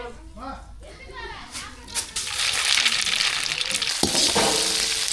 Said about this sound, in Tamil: சாம்பார் தாளிக்க என்ன சூடாயிட்டு கடுகு சேர்த்துக்கலாம்